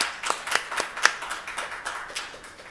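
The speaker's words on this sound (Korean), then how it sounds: "우선 이분들에게 환영의 큰 박수를 여러분들께 부탁드리겠습니다." Audience applause greets panelists at a policy seminar's closing panel discussion: a short burst of scattered, moderately loud hand claps that gradually thins out, with no talking over it.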